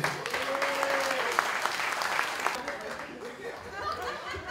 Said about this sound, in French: Applaudissez pour le fair play.